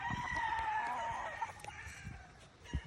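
Gamecock roosters crow and hens cluck nearby, overlapping calls in a busy game farm poultry yard with faint background chatter.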